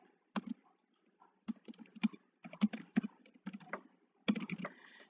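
Close, clicky bursts of typing on a computer keyboard as an item description is entered into inventory software, with short pauses between the quick runs of keystrokes and no talking.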